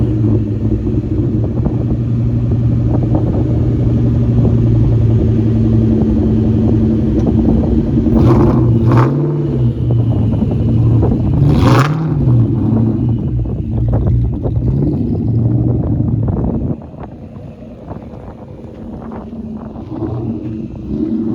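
A 2003 Mustang Cobra Terminator, which has a bad PCM ground, drives around close by. Its engine rumbles steadily and rises through a couple of revving swells, then drops away near the end.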